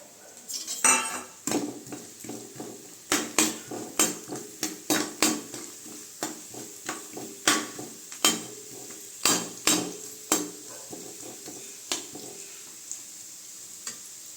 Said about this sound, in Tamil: இப்போ பார்த்தீங்கன்னா நெய் சூடாகிடுச்சு. இப்போ வந்து அந்த தேங்காய் கட் பண்ண பீஸை போட்டுக்கலாம்.